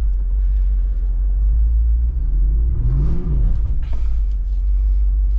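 A 2022 Jeep Wrangler Rubicon 392 Xtreme Recon rumbles off-road and gives one loud, rising rev around the middle that falls away again, over a constant low engine drone with no voices.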